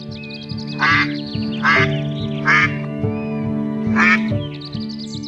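Ducks in a forest, from an animated Kannada children's story, give four loud, distinct quacks at roughly even intervals over a steady tonal music bed.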